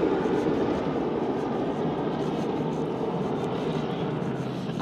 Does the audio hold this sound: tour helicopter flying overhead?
yes